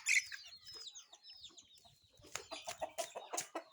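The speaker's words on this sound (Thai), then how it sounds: "เป็นไก่ของพี่คนหนึ่งนะครับ ชื่อว่าอุ้ย" A mother hen and her chicks cluck and chirp close by in a quick, busy stream of calls, with a few sharper squawks near the end.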